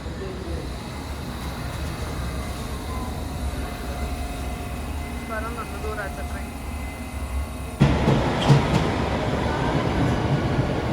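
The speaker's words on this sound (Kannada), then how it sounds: "ಟ್ಯೂಬ್ ಬಂಡ ನಮ್ಮ ಮೊಲ್ತ metro R train what ever you call it" A London Underground tube train rumbles steadily throughout, a dense low roar with clattering texture that grows louder and rougher near the end as the carriage speeds up or enters a tunnel, with faint speech beneath.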